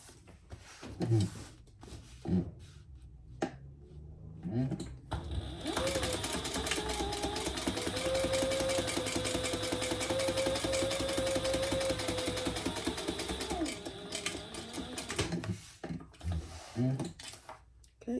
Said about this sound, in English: And then we'll top stitch